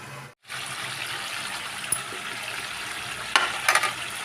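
Chicken curry simmering in a pan with water added, giving a steady soft bubbling and sizzling hiss throughout, with a few brief clinks near the end.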